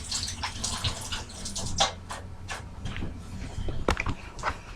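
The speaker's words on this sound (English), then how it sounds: "let me wash my hands." Tap water runs in a kitchen while hands are washed, a steady splashing with irregular sloshes and a few small clunks nearby.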